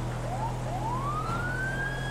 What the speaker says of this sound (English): I'm going to turn my siren on.